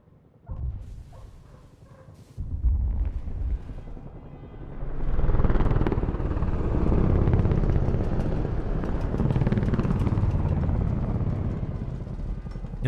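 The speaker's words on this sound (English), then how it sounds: "Sarah wakes up to the sounds of explosions, helicopters, and sirens" Helicopters, sirens and explosions in the opening of the video game The Last of Us: a loud, sustained roaring rumble of rotors and distant chaos that builds after a few muffled thumps and stays dense throughout.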